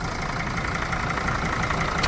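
A steady, continuous diesel van engine with a 2.7-litre displacement idling and rumbling close by, with no talking.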